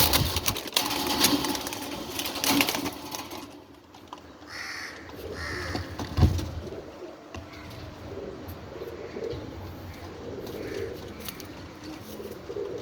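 French pigeons call with low, repeated cooing close by, mixed with harsher bird calls and some rustling; the sounds come in bursts, louder early on and then softer and more scattered.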